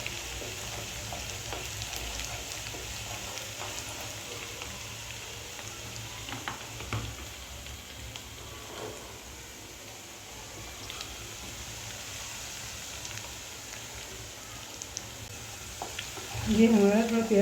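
Onions and chicken fry in a pan for restaurant-style chicken kali mirch, giving off a steady, close sizzle and crackle that never lets up. A voice is heard now and then over the frying.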